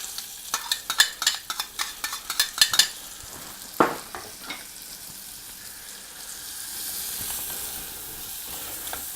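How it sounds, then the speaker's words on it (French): Shallots dropped into a hot pan over lowered heat, after braising pork cheeks, give a burst of quick clinks and stirring scrapes with crackling sizzle, then a steady soft frying hiss continues alone. "On va mettre les échalotes."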